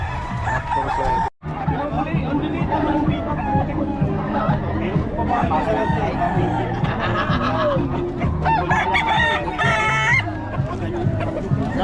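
Roosters and chickens crowing and clucking near and far at a gamefowl sale, repeated calls over a busy background of several people talking.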